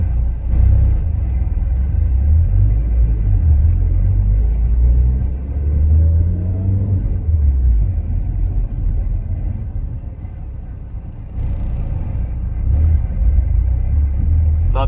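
A Lancer Evo X drives up the street with a deep, loud engine rumble, rising in pitch as it accelerates and then settling into a steady drone, with wind noise over it.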